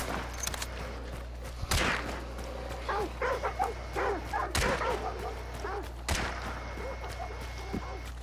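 Dogs barking in a Hunt: Showdown match, faint yelps and barks recurring over several seconds amid a low steady hum and a few sharp gunfire-like cracks in the distance.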